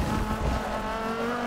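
Car drifting in Forza 6 racing game, likely an SRT Viper, with a steady engine drone and sustained tire squeal tones running continuously at moderate loudness.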